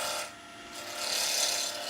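Small bowl gouge cutting a wooden pen blank on a lathe, a steady close scraping rasp that dips briefly then swells again, with no talk over it.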